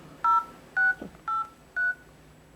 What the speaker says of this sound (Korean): 직접 전화를 걸어보도록 하겠습니다